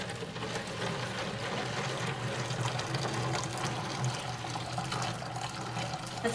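Hot water pours steadily into a container for a craft project, a continuous close splashing fill with no talk over it.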